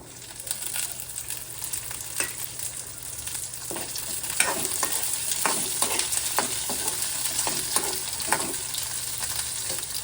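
Ivy gourds frying in hot oil in a pan give a steady, continuous sizzle, with stirring scrapes and clicks through the middle of the clip and no talking.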